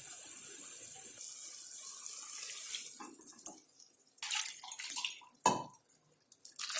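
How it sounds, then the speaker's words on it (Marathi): Water added to a pan of ground peanut and green chili paste: a soft running pour and faint hiss at first, then splashing, bubbling and a few knocks and clinks of utensils near the end, fairly quiet overall. "पाणी ऍड करायचंय."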